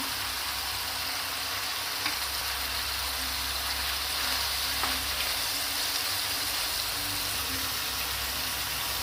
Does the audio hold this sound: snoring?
no